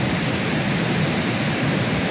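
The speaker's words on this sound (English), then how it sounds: "you can simply watch the waterfall" The Pykara waterfall flows in a continuous, moderately loud rushing wash of water, even and unbroken for the whole short stretch, heard from some distance with no speech.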